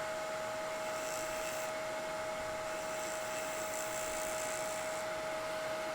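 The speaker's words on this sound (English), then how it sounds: "one of my favorite tools, the air hose. You'll get those shavings right off your lathe." Air hose blowing wood shavings off a lathe in a workshop, a continuous loud hissing blast with a steady whine throughout, no talk over it.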